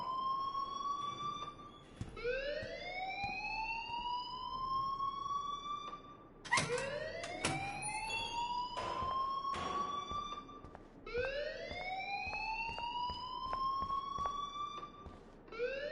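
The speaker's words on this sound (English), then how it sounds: "please turn off that alarm since that's your job" An alarm in the video game Life is Strange blares loudly as a rising, whooping siren-like tone, each sweep climbing and holding before starting again, about every four seconds with no talking.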